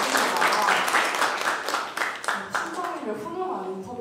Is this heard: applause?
yes